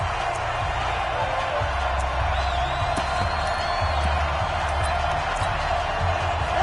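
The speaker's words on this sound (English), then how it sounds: "the crowd getting into it as we come up on a big 3rd down" Stadium crowd roaring in a college football video game ahead of a big third down, a steady, dense wall of crowd noise that stays even and fairly loud throughout.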